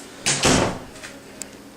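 A door to a laundry room in a home opens with two quick close thumps in succession, followed by quiet room tone and a faint click.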